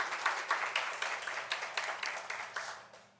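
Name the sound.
applause in church service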